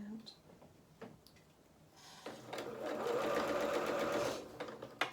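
A domestic sewing machine hums in a short burst of stitching on a festive Luna Lapin hat, boots and beard project, preceded by quiet handling clicks and faint rustling.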